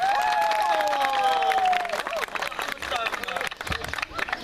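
Applause from a gathering at a village picnic in Dağıstan, a burst of clapping mixed with crowd noise and music, fading after a couple of seconds as voices and background chatter continue.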